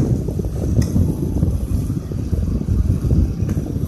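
A Sanyo Denki 220 V AC cooling fan spinning fast gives a loud, steady broadband whoosh with a slightly rough, fluttering texture, close to the microphone and continuous throughout, with no voices.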